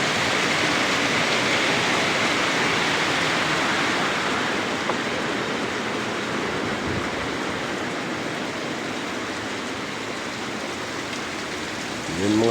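Steady heavy rain pours onto a fishpond, a dense unbroken hiss of water close by that holds its loudness throughout, with a brief louder patter at the very end.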